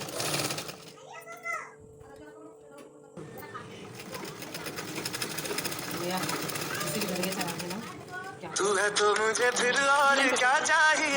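A sewing machine stitches cloth lining into a square neckline, its needle chattering in fast, steady bursts that start and stop, with someone talking over the work.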